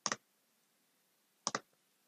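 Computer mouse clicks while choosing a site in Microsoft 365 compliance settings: two quick double clicks, one at the start and one about 1.5 s later, close and crisp against silence.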